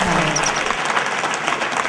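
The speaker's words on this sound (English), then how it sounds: "Clap your hands now, people, clap now" Crowd at an underground hip-hop show clapping, dense and loud applause continuing throughout, with voices mixed in beneath.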